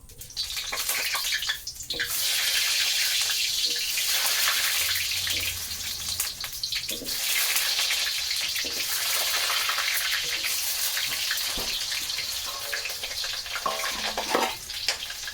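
Potatoes dropped into hot oil in a preheated wok, a loud, continuous bubbling sizzle that swells and fluctuates with small knocks and stirring clatter throughout.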